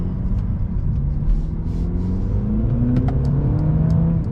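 A 2022 Mercedes-Benz CLA250 4Matic's 2-liter inline-4 engine hums and rises in pitch as it accelerates, a steady smooth whir heard from inside the cabin.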